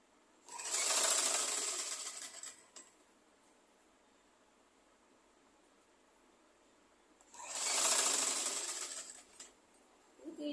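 A sewing machine stitches an outer skirt (pavadai) in two steady whirring runs, each lasting about two seconds, separated by a quiet pause, close and alone.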